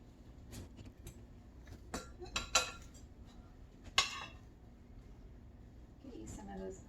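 Thai beef meal served onto plates in a home kitchen brings faint clinks and scrapes of cutlery and dishes, a few sharp knocks scattered across several seconds, with quiet voices talking in between.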